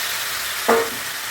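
Malabar spinach dropped into a pan of sautéed spices gives one short, close sizzling burst with a brief stir. It fades quickly back to a steady low hiss of frying.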